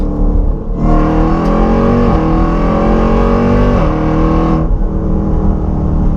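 A 1,000-horsepower Jeep Trackhawk accelerates hard from inside the cabin, its loud engine roar climbing in pitch through gear changes before easing off.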